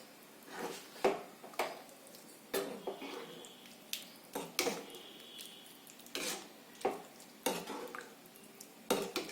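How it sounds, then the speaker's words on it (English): A spoon stirs vegetable masala curry in a pot, scraping and clinking against the metal in repeated strokes every second or so, fairly close and loud, with no talking. "Mix it well."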